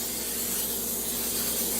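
Cooking oil sprayed from a can into a 9 by 13 baking pan, one continuous close hiss that holds steady from start to end.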